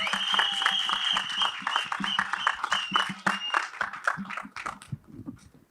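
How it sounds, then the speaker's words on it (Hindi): An audience applauds at a film trailer launch event with sustained clapping at moderate distance. A tonal whine runs through it, and it fades toward the end. "जोरदार तालियां."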